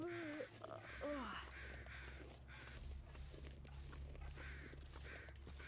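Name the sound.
crows cawing in The Long Dark video game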